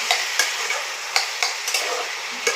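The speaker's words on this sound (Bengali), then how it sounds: "এবার ভাজা ভাজা করে কষা কষা করে ভাজা করবো" Bottle gourd ghonto with small fried red lentil fritters sizzling and being stirred in a pan, a steady close frying hiss broken by repeated scraping strokes of the spatula, no voices.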